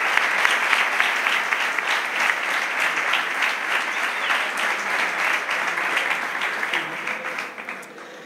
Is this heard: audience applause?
yes